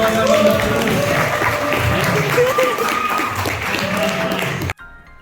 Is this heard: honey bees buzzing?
no